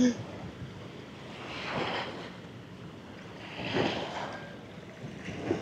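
Ocean waves on a beach at Bantayan Island, with soft surf swelling and breaking in slow, gentle surges at moderate distance over a low wind rumble.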